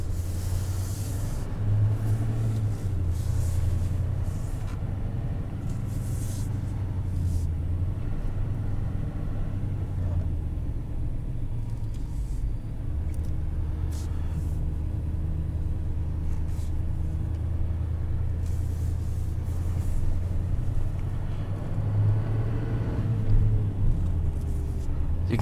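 A 2021 Chevrolet Silverado 2500 LT with a Duramax diesel engine drones steadily from inside the cab, a deep rumbling engine with a faint turbo whine swelling briefly near the start and again toward the end.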